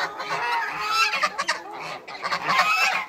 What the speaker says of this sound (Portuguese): Os garnizé é uma briga danada.